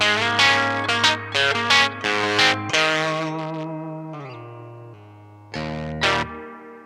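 Electric guitar runs through a gain effects pedal with plenty of reverb at a lower-gain setting, playing an older-style melodic phrase of sustained, singing notes and bends with echoing tails, heard alone.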